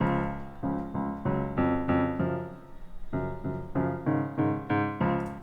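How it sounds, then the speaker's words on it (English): Two layered pianos, the second a duller tone backing the first and panned right, playing a pop verse; sustained repeated chords in a steady pulse, close and alone with no talk. "I layered this first piano with another piano,"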